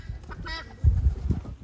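Guinea fowl calling from a coop roof, a few harsh honking squawks over low rumbling and rustling close by.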